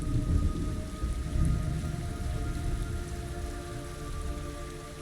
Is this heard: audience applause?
no